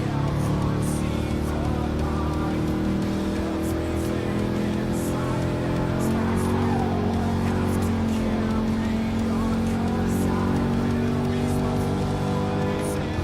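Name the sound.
Abarth 500 engine under throttle, from the video game Gran Turismo Sport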